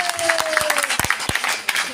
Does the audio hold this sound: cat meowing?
no